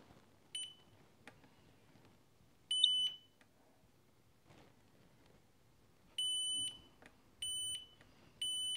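A continuity tester beeps while probing the pins of a Nintendo NES console: a short steady tone, a second one, then three longer close beeps near the end, clear over a faint background hiss.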